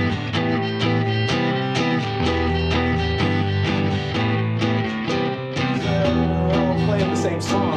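Several guitars strumming the same chords together, a loud, dense, continuous rhythmic wash of chords played close with no voices.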